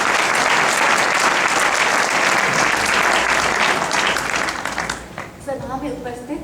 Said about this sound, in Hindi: आप एक बार जोरदार तालियों से बुलाएं